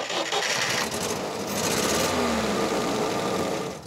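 An old engine taken from a UAZ, over twenty years old, running in a homemade monster truck: a loud, close, continuous knocking rattle with a rough mechanical chatter.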